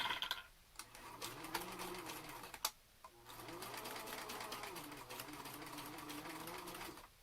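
A sewing machine stitches through thick, bulky layers of a fabric mask, running in a steady rapid whir with a brief stop and restart partway through.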